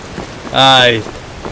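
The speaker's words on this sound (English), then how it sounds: "Ooh, heavy rain." Heavy rain in the video game Skyrim gives a steady, close wash of falling drops, briefly overlaid by a short voiced exclamation in the middle.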